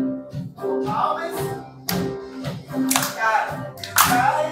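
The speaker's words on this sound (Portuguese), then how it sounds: "Palmas." A church congregation claps hands during worship, sharp irregular claps rising in bursts over singing and voices, close and fairly loud.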